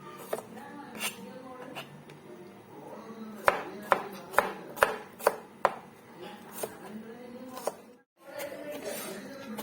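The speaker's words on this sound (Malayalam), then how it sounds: "അത് കീറി ഇങ്ങനെ അങ്ങ് ചെറുതായിട്ട് അരിയുവാണ്." A knife slices small red shallots finely on a cutting board. Sharp, close taps come in a quick run of about six strokes, with scattered softer cuts and faint handling noise around them.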